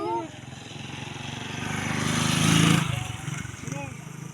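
Motorcycle engine idling and revving nearby, building to a louder rev and easing back, with people talking over it.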